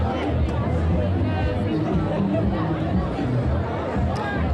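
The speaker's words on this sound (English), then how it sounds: "the crowd is definitely picking up since even the last time we checked in with you all" Outdoor Mardi Gras crowd in the Marigny, New Orleans, a steady wash of babble and chatter from many people nearby, with no single voice standing out.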